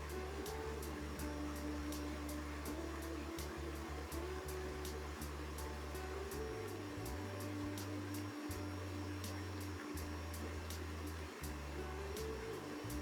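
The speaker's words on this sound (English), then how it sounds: "crank up the food processor to high speed for about 1 minute" A food processor runs at high speed while mixing hot syrup into nougat, giving a steady, loud motor whine and hum that continues throughout without pause.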